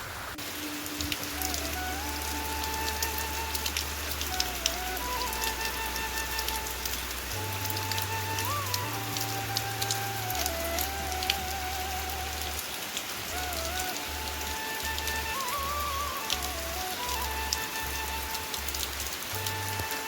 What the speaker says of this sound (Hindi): तो देखो लगी जा रही है झमाझम वाली बारिश।